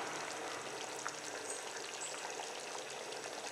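Wheat rava biryani simmers in a pot while being stirred, giving a soft, continuous low sizzle and faint scraping, steady and quiet throughout with no voices.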